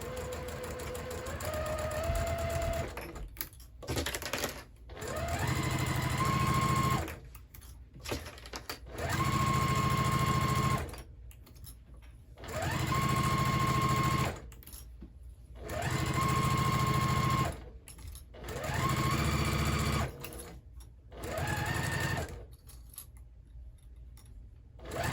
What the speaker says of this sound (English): So I'll put my presser foot back down and keep on sewing again.